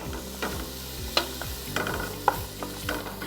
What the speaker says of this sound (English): Onions have started to cook.